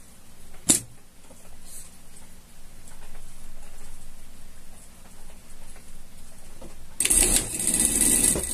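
A sewing machine stitches a pet harness in a steady, fairly loud run of rapid ticking, with a sharp click near the start and a harsher burst toward the end.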